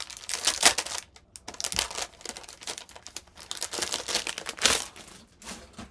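Quarter-inch Score Tape torn by hand for a paper mini album, irregular crinkly tearing bursts with short pauses between them, close and moderately loud, no speech.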